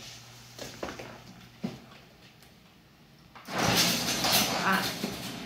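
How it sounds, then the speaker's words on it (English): A garage door rolls shut, starting with a few clunks and knocks and then swelling into a loud, broad rumbling slide that lasts for several seconds nearby. "You wanna close the garage door for me?"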